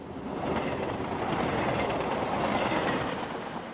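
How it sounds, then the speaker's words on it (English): A train pulls away on the Sydney Harbour Bridge line, a steady, loud rumble of wheels and rail clatter with no voices, holding level for several seconds. "As Tom looks to the future, at midnight, the RailCorp team are waiting for the final day's train to depart"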